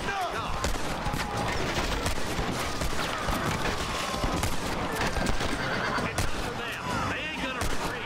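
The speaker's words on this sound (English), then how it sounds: "Oh, I just shot the horse!" A horse in the Red Dead Redemption 2 video game whinnies after being shot, its neigh rising over clip-clopping hooves and bursts of gunfire in a busy, loud in-game scene, with a voice speaking throughout.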